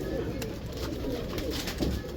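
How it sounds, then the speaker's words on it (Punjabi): Pigeons coo softly in a loft, with low, muffled calls under a steady background hum and faint rustling nearby. "ਇਹ ਦੇਖੋ ਜੀ ਕਬੂਤਰ"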